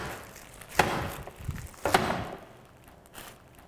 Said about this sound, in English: I just smashed the cauliflower.